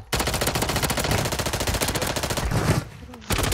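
Rapid automatic gunfire in a battle royale shooter, a dense continuous burst of shots running nearly three seconds, then a short gap before firing resumes, loud and close with no talk over it.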